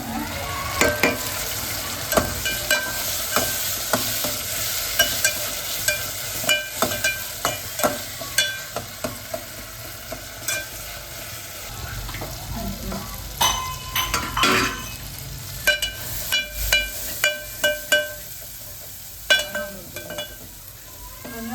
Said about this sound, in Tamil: தக்காளி நல்லா வதக்கிடுச்சு